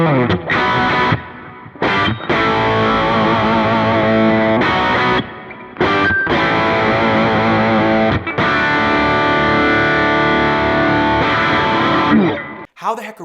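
Big, fat humbucker electric guitar through a distorted Kemper profile, playing thick sustained chords and riffs, loud and saturated, with short pauses between phrases.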